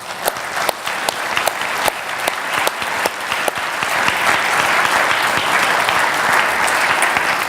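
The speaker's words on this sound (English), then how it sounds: "really deserve a round of applause." Audience at a surgical society's presidential address applauding: a few distinct, spaced claps at first, then swelling into a dense, sustained round of clapping from a large room.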